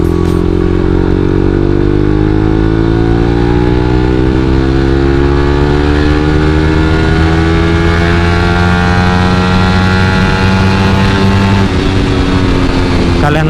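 A lowered Suzuki GSX motorcycle is ridden at speed, its engine droning loud and close and climbing steadily in pitch through the gears, with wind rush throughout and a shift near the end.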